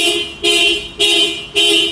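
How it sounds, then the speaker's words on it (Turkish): A Toyota Corolla's own horn, sounded by an aftermarket alarm connected through the OBD system: three loud, close, evenly spaced honks, each lasting about half a second, with short gaps between. "Bu alarm e, aracın kendi kornasını çalabiliyor."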